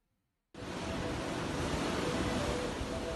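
Waves roll onto the shore at Namalatu Beach in Latu Halat, Ambon. After a brief silence, a steady, loud, continuous wash of surf sets in and fills the rest of the clip.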